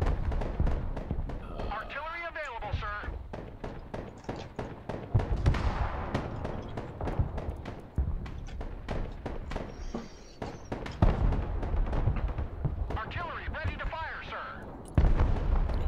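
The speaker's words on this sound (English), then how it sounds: "I'm firing artillery on it now" Artillery fire in the war strategy game Broken Arrow: repeated sharp booms and gun reports, some close and punchy, others distant, landing in an irregular stream over continuous talk.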